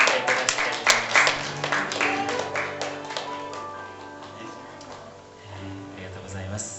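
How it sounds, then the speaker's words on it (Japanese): A church congregation claps at the close of a worship service, a scattered, moderately loud patter that thins out over several seconds while a voice speaks and soft music lingers underneath. "イエス様に大きな拍手をいただきたいと思います"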